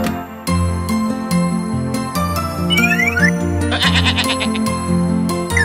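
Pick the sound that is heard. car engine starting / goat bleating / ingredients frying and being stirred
goat bleating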